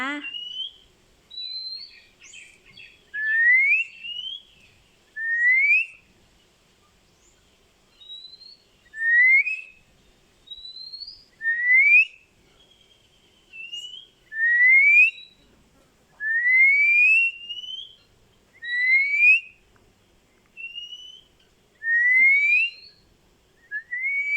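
Someone whistles an imitation of a magpie-robin's song, repeating short rising phrases in an irregular series with brief pauses between them.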